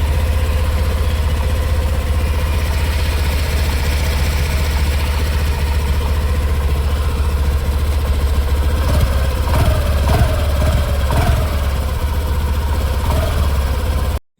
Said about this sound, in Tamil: இதுவரை ஆக்டிவா 110ஓட உங்களுக்கு எக்ஸாஸ்ட் சவுண்ட் கேட்டிருப்பீங்க, இன்ஜின் சவுண்டும்.